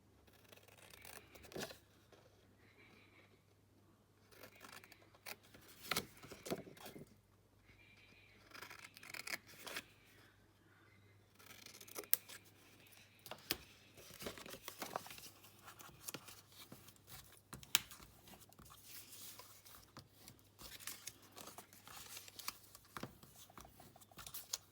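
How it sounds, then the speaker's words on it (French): Paper tabs being snipped with scissors for a decorative die-cut garden-themed craft box, a series of soft close cuts and rustles with short pauses between them and no talking. "De la même façon, nous allons découper les languettes."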